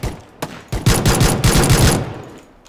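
Gunfire in PlayerUnknown's Battlegrounds, a pistol-only match on a private server: a rapid burst of sharp shots cracks out in quick succession, loud and close, then fades to quiet.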